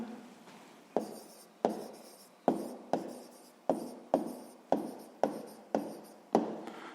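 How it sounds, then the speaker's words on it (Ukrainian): A pen writes an answer on paper, giving about ten sharp strokes at an even rhythm, each followed by a short scratchy trail, close and clear. "Записуємо відповідь."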